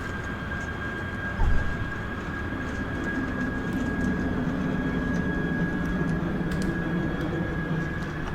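Thrust reversers on an Airbus A340 roar during landing rollout in the Prepar3D flight simulator, a steady broadband engine rumble with a thin constant whine above it, one brief bump near the start, and no talk.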